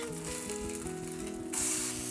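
Leftover rice snack frying in a little oil in a pan over medium heat, just flipped: a steady close sizzle with soft scraping underneath that swells louder near the end.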